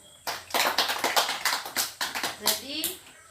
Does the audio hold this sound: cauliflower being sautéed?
no